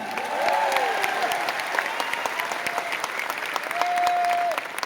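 A large audience at an event in Delhi's Tyagraj Stadium claps steadily in a dense, sustained wash of applause, with a few voices and whistles rising through it.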